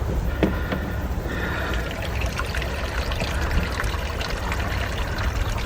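Water is poured from a container for a dog beside a van on a hot day, giving a steady splashing trickle that runs continuously at moderate loudness over outdoor background noise.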